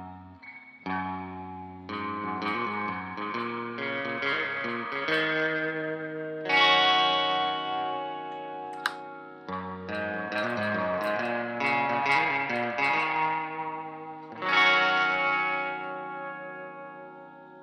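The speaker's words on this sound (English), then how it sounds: "now let's play with some of this reverb" An electric guitar played through a TC Electronic Ampworx Combo Deluxe 65 amp with reverb on, sustained chords and picked notes ringing out with a lingering wash, loud and alone in a close room.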